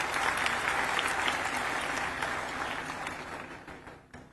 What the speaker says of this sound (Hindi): जोरदार से हम तालियों से स्वागत करते हैं।